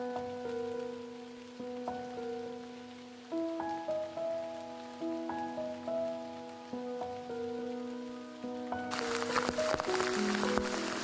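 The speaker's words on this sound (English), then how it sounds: "But soon that rain grows more intense, and Mom is everything but dry." Heavy rain pours down in owl nesting woodland, a dense hissing wash that surges in loudly near the end after a stretch of gentle melodic music.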